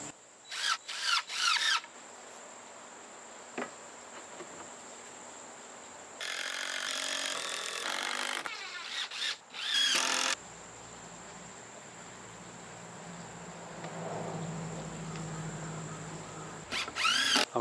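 A power tool cuts wooden corner posts for a backyard bridge in several short, loud bursts separated by quieter pauses.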